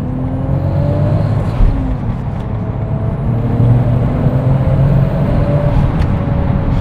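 A Lexus IS fitted with a JZ turbo engine accelerates hard on the road, its loud turbo whine rising steadily alongside the engine's roar and a whirring boost.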